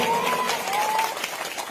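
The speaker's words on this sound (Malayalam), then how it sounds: "ഒന്ന് ഉറപ്പിച്ച് കൈയടിച്ച് പാസ്സാക്കി തരുമോ?" Audience applause at a political rally speech in Kerala, a dense, steady wash of many hands clapping close and loud for nearly two seconds, with a faint sustained tone running through it.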